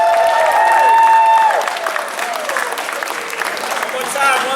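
A crowd at a San Francisco Warriors youth football awards night claps and cheers, a steady wash of applause with voices talking and calling out over it throughout.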